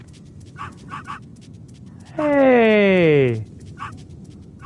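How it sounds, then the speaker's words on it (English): A dog from the Metal Gear Solid video game lets out one drawn-out whining yip lasting about a second, with sliding pitch, amid soft game background noise and short clicks, while a person speaks a brief word nearby. "Oh, little doggy."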